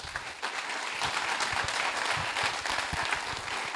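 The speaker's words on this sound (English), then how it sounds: "if we could give them a round of applause" Applause for panelists at the end of a private-sector discussion event: a room of people clapping steadily and evenly, moderately distant and fairly soft, with no talk over it.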